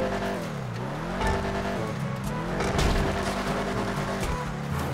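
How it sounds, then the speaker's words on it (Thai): A car in GTA V slides and skids, tires squealing over a loud, wavering engine note that dips and swells through the clip with no talk. "เฮ้ยรถลื่นรถลื่น"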